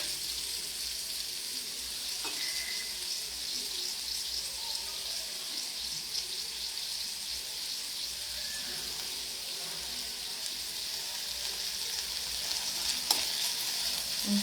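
Vegetables frying in a pan and being stirred, a steady bright sizzle with occasional soft scrapes and clicks, faint and continuous throughout with no talking.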